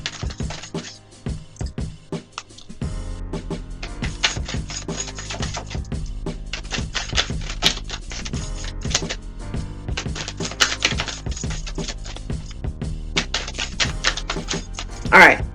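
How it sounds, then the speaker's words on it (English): Tarot cards are shuffled in rapid, crisp clusters of flicks and taps that continue for many seconds at close range, with occasional soft talking over them. "We'll do one more shuffle"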